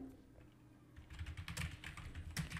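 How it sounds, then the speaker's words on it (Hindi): Steady typing on a computer keyboard while working in PowerPoint 2016, a quick run of close, crisp key clicks that begins after about a second of quiet and keeps going to the end. "उसके बाद हम यहाँ पे टाइप कर लेते हैं पावर पॉइंट"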